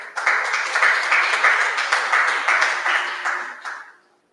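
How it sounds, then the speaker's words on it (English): Audience applause at a community event, a few seconds of steady dense clapping that fades out at the end. "Please give a round of applause."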